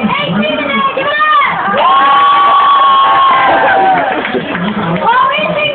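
A lively crowd cheers and whoops to celebrate a young man's 18th birthday, loud and close, with high shouts and a sustained yell rising over the group.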